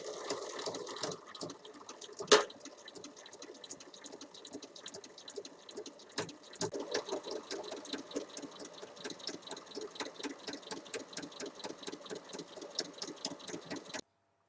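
A sewing machine stitches patchwork fabric pieces together in a fast, steady mechanical whir with rapid needle ticks, close and loud, after a few starts and stops early on.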